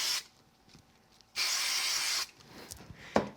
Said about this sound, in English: I'm going to use a little bit of quick spray glue on it